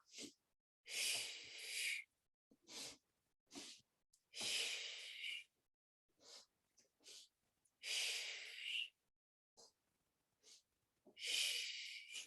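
Deep, forceful breaths during seated Pilates breath work: long inhales and exhales close to the microphone, repeated in a steady rhythm with short silent pauses between them and no talking.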